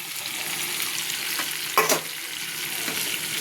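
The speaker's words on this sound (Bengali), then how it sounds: "এটা কাজু বাটা আর পনির আর টমেটোর যে পেস্টটা আমি করেছি, সেই পেস্টটা এখানে এবার দিয়ে দেবো" Cashew, paneer and tomato paste is added to pointed gourd frying in a pan, with a steady close sizzle, one brief clattering stir near the middle, and no voices.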